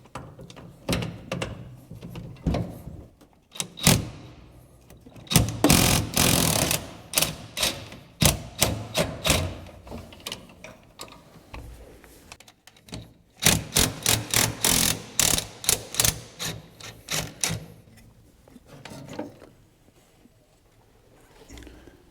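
A 9/16 socket wrench ratchets on the bolts of a Ford F100 pedal assembly, making bursts of rapid mechanical clicking close by, separated by short pauses and clunks.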